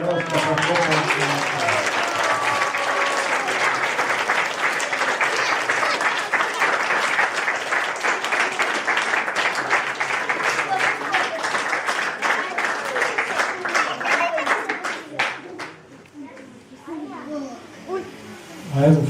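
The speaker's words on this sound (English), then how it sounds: "Yes, give him all a clap." An audience at a children's theatre performance in Odessa claps in a sustained, dense round that thins and fades near the end, with children's and adults' voices mixed in.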